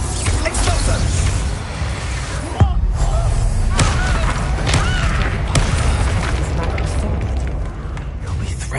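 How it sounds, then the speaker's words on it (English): A spell explosion in the wizarding video game Hogwarts Legacy sounds as a sharp boom near the 2.6-second mark within a dense, loud mix of game combat effects, with people talking throughout. "Explosion!"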